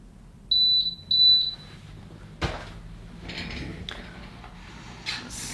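A Thermal Cinch binding machine gives two short high beeps close by, followed by faint clicks and handling noises.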